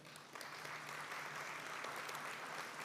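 A commencement audience applauds, a dense, even wash of clapping from a large crowd that starts softly and swells after a moment, continuing steadily without speech.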